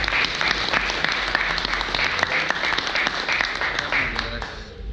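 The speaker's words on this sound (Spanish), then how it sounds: "les agradecería les lo recibieran con un fuerte aplauso" An audience at a lecture on seismic design of steel structures gives a welcoming round of applause for the speaker, dense and steady clapping filling the room before tapering off at the end.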